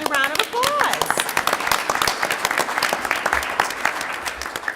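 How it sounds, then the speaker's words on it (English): Applause at the launch of a report on greening global supply chains: a dense burst of clapping from the audience, close and sustained, over a brief tonal whistle at the start and faint voices underneath. "Yeah, that deserves a round of applause."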